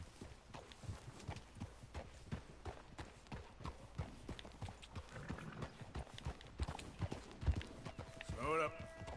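A horse in Red Dead Redemption clip-clops steadily with hooves on the ground, then gives a short whinny near the end, while someone talks over it.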